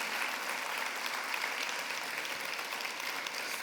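A church congregation applauds during a Spanish-language sermon, a steady wash of clapping that stays fairly faint and even, with no talking over it.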